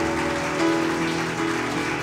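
A church congregation applauds in a steady, dense wash of clapping, with a sustained tonal hum, likely music, running underneath throughout.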